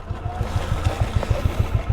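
A Bajaj Dominar motorcycle with its silencer come loose runs with a loud, close, uneven engine rumble, pulsing rapidly and rattling throughout.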